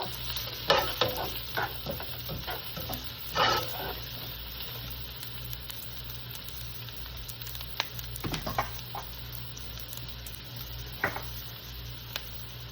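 Carrots frying in a pan for sotanghon guisado, with a steady sizzle and intermittent stirring scrapes and clinks of a utensil, heard alone with no voices.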